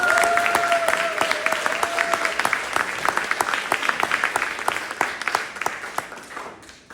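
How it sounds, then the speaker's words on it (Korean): An indoor crowd at a campaign team's disbanding gathering claps loudly and continuously, sharp individual hand claps standing out within the dense applause, a faint tonal hum underneath early on, and the clapping thinning near the end. "두 분한테 우리 큰 박수"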